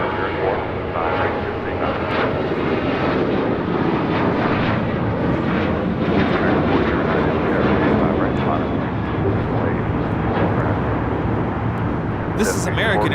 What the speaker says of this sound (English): This is American Airlines 764 taking off to Puerto Vallarta on a 737-800